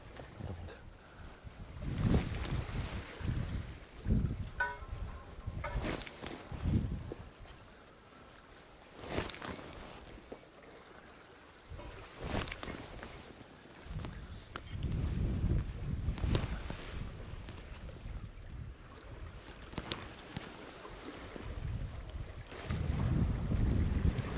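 Wind gusting over a fishing boat at sea, a steady rough roar with rumbling microphone buffeting that swells and eases over time, no voices.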